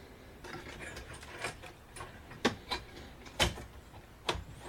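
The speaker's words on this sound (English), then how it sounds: "So there's a few screws over here that you have to remove." Screws being removed from an HP TouchSmart all-in-one desktop computer, heard as faint scattered clicks and sharp ticks of a screwdriver and loosened screws over a quiet background, with no talking.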